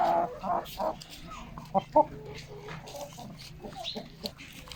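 Several Light Brahma chickens cluck nearby in short, uneven bursts, a couple of louder sharp clucks standing out against a quieter background of soft murmuring calls.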